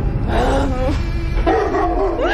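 A dog in a village giving a few yipping, whining barks up close, the calls rising and bending in pitch against a constant background hum.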